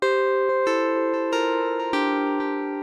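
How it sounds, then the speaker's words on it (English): Triangle wavetable oscillator on a synthesizer sounds a steady, smoother sustained tone, stepping through several notes in under three seconds, each with a soft attack, heard alone and up close. "Let's see what happens if we change it to a triangle."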